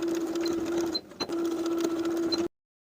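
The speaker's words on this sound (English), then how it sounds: "Sew both short ends of the waistband with a 3/8 inch seam allowance" A sewing machine stitching the short ends of a denim skirt waistband, a steady close whir that halts briefly in the middle and resumes before stopping abruptly.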